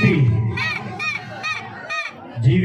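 A crowd at a palkhi procession in Charkop Koliwada cheers loudly in repeated bursts of shouting, with high children's voices prominent and close.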